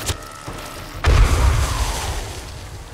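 A pipe bomb explodes in the survival game 7 Days to Die: a sudden heavy boom comes after a brief sharp click, then a low rumble slowly fades.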